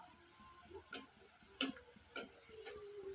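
Food fries in hot oil with a faint, steady high hiss, broken by a few soft clicks of stirring, quiet and close.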